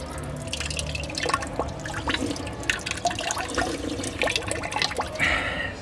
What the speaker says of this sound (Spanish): Está muy padre el bebedero que tiene forma de inodoro